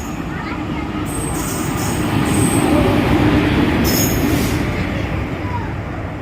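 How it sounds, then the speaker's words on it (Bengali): A Kolkata local train pulling into a station platform, a loud continuous rumble of wheels on rails with high squealing brake tones and faint voices underneath. "একটা ট্রেন চলে এসেছে তো এই ট্রেনটা আমাদের নয়"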